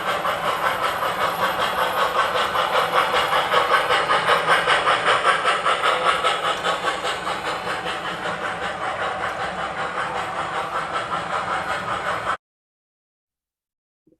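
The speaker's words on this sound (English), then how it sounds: "Here we see two trains run on the flex curves, my Y6B on the inside loop and my Jeep 9 on the outside loop." Two model trains, a Y6B on the inner loop and a Jeep 9 on the outer, run around flex-track curves, giving a steady rhythmic hiss and clatter that pulses evenly, fades slightly, then cuts off abruptly.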